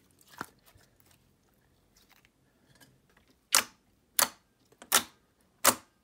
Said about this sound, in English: If you like that click sound, that clicky sound, this is the slime for you.